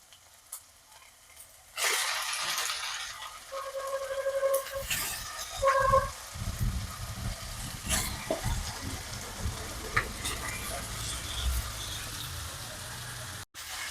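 Chicken sizzles in a hot pan with a steady hiss, broken by clanks and scrapes of stirring; a few faint tones ring early on.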